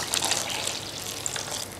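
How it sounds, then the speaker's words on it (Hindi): A small splash of water is poured into a pot of cooking onion korma, a brief close trickle and gush over a sizzling background, with no talking. "थोड़ा सा पानी पा दी"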